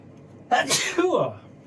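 A single sharp sneeze bursts out close by, a quick inhale then an explosive burst with a voiced tail, over a quiet room.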